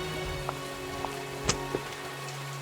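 Heavy rain falling outdoors as a soft, steady hiss under a constant hum, with a few faint drips or taps on top.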